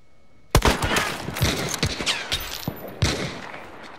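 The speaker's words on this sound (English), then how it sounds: "Get ready to take a shot with me in case I don't get a headshot." Video game gunfire in a hunting shooter: a loud opening shot followed by a rapid, uneven volley of cracks and echoing reports, with another heavy shot near the end, all close and without talk.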